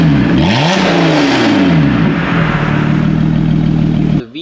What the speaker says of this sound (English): It's also got an aftermarket exhaust, which I bought the vehicle like that.